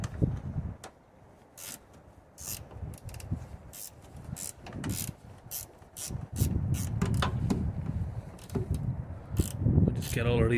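A wrench ratcheting loose the 13mm top suspension bolts on a Ford Fiesta strut: rapid close clicking pawl bursts and metallic taps, intermittent and fairly quiet, with some low shuffling handling noise.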